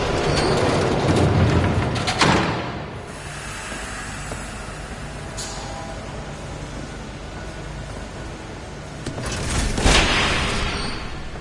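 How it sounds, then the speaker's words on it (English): A train rumbles past in Batman: The Telltale Series, a loud hissing rush that swells at the start, settles into a steady roar, then surges again near the end, with no talk. "There's a train coming."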